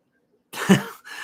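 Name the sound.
sneeze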